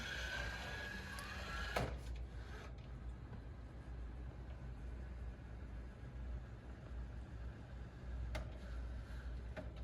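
An iRobot Braava Jet M6 mopping robot working around chair legs, a steady quiet motor whir with a few soft knocks and thuds as it bumps and turns, close and without speech.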